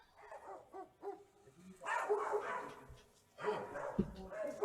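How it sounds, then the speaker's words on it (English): A pack of dogs barks in two dense, overlapping bursts separated by a brief lull, fairly close and loud during a tabletop fantasy role-playing game session, with quieter talk and sounds before the barking begins. "you see a pack of dogs running towards you"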